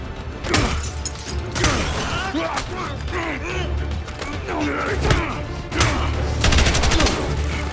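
Gunfire in the video game Battlefield 6, heard as a dense string of sharp shots and bursts over about eight seconds, loud and close, with mechanical clatter and game effects mixed in and someone talking over it.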